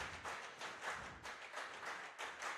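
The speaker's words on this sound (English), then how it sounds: "Got some clapping going." Baseball fans clap in the stands at a youth tournament game, a loose, moderately distant patter that rises and falls in several bursts over a few seconds, with no talk over it.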